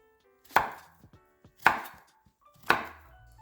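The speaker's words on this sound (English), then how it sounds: "Cut it into chunks." A knife cuts eggplant into chunks on a board, giving three sharp, evenly spaced chops close by, with faint small taps between them and no talking.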